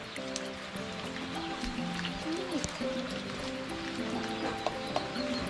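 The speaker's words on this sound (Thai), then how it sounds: "ฝนก็ยังไม่หยุดตก ฝนยังไม่หยุดตกเลย" Continuous rain falls outdoors in a rural Thai farm setting, a soft steady hiss with scattered drips, while faint tonal background sounds sit underneath.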